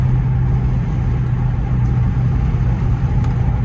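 A Dodge Challenger Hellcat engine drones loudly and steadily while driving, a deep constant rumble with road and wind noise from inside the car, with no audible talk.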